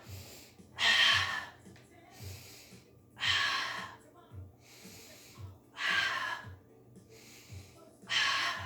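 Heavy, forceful breaths come in a steady rhythm, roughly every two and a half seconds, with a faint patter of movement between them.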